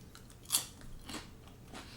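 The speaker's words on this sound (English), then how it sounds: "It's crunchy, and when you bite into it, you get that good like chew to it" Someone bites into crunchy Asian-flavored chips from Taiwan, with a sharp crisp crunch, then softer chewing crackles, close and quiet with no talking.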